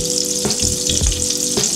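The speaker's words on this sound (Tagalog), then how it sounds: "Ako pag nagigisa ko inuuna ko muna ang luya." Ginger sizzles and fries in butter in a pan, a close, continuous crackle with a few soft stirring scrapes.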